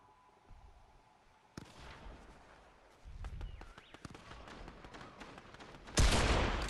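Fortnite gunfire rings out as a series of sharp shots, a few isolated cracks followed by a denser run of rapid reports, ending in a loud burst; moderately close, no talk.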